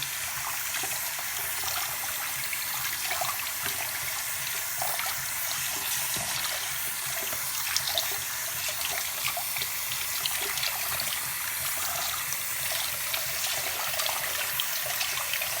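A Corsair Vengeance C70 dust screen is rinsed under a sink spout, with a constant, close stream of tap water splashing and hissing without a break.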